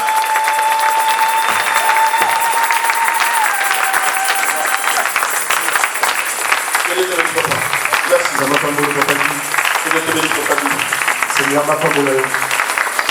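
A church congregation applauds and cheers the Lord with a steady, dense wash of clapping and crowd noise, while a voice sings or speaks over it near the end.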